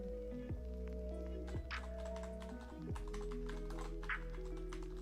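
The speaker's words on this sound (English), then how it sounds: "What am I typing in?" Fast, light clicks from typing on a light-up computer keyboard, close and quiet, over a steady low electronic hum with faint tonal notes.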